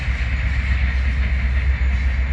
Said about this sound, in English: But hold on for that train right there.